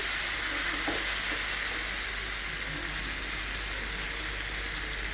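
Mixed vegetables fry in a pan with a steady, dense sizzle that fills the whole stretch, close and even, with a few soft stirring knocks early on.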